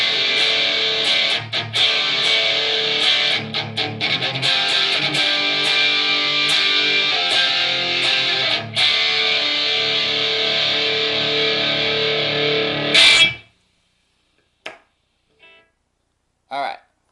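Distorted electric guitar through a small practice amp into a Mesa 4x12 cabinet loaded with Vintage 30s, loud dense chugging chords for about thirteen seconds, then stopping abruptly into near silence with a few faint stray noises.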